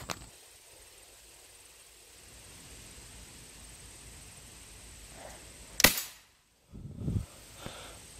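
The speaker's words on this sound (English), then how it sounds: "I'm going to shoot with my pellet gun. Daisy Powerline 880 with Piranha pellets." A Daisy Powerline 880 pellet gun fires a Piranha pellet at about 25 yards outdoors, one sharp close crack, then a short quiet and a faint distant knock of the target hit.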